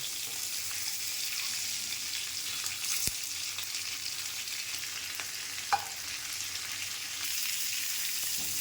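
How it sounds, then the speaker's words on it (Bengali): Potatoes and tomatoes frying in oil, a quiet, constant sizzle with a few sharp clinks from a spatula against the pan. "আলু আর টমেটো দিয়ে হালকা তেলে ভেজে নিতে হবে"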